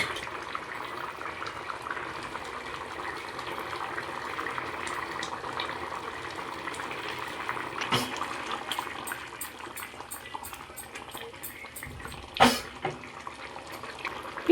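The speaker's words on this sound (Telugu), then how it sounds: "చూడండి బాగా ఉడుకుతుంది కదా" Regadi (bocha) fish curry with broad beans simmers in a pot, a soft steady bubbling hiss near the microphone, with a couple of brief clatters toward the end.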